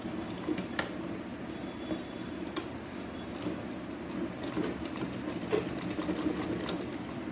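A sewing machine stitches the edge of a blouse latkan hanging in a continuous low mechanical hum with rapid needle ticking, punctuated by a few sharp clicks of fabric handling nearby.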